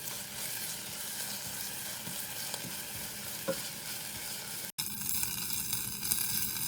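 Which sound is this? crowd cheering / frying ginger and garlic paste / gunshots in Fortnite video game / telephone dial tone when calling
frying ginger and garlic paste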